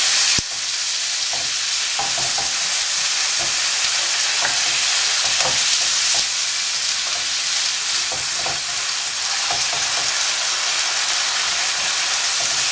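Paella ingredients stirred in a hot pan, a steady loud sizzle of frying with scattered scraping clicks of the spoon against the pan throughout, no talking.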